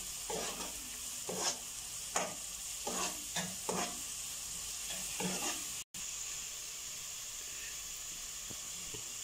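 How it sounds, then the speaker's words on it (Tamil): Ginger garlic paste frying in a pan for chicken gravy, a steady hissing sizzle broken by several scraping stirs of a spatula, close and continuous, with no voices. "இனி இஞ்சி பூண்டு பேஸ்ட் சேர்த்துக்கலாம். அதையும் நல்லா வதக்கிக்கலாம்."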